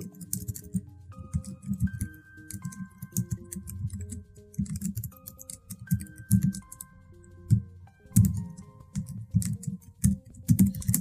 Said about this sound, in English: if I want to go ahead and type something, I'll type